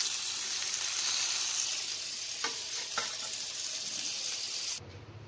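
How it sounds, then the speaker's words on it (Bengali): Fish frying in a pan gives off a loud, steady hiss of hot oil with a couple of brief utensil taps, then cuts off abruptly near the end, leaving a faint hum. "মাছটা ভাজা হয়ে গেছে"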